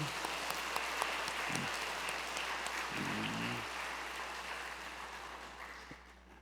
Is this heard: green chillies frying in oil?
no